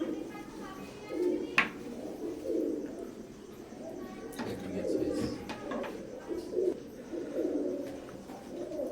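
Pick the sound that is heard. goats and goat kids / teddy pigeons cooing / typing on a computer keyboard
teddy pigeons cooing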